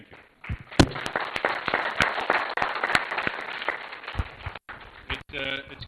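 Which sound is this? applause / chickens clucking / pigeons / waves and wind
applause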